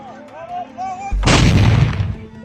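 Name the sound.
gunfire and artillery bombardment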